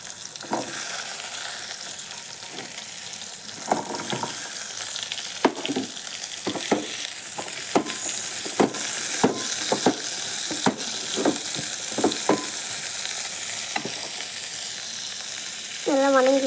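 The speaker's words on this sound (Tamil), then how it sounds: "இப்போ கட் பண்ணி வச்சுருக்க சின்ன வெங்காயம் சேர்த்துக்கலாம்." Chopped small onions drop into hot oil already holding browned garlic and curry leaves for a broad bean tamarind rasam, giving a steady loud sizzle broken by sharp clicks of a spatula stirring against the pan, no voices.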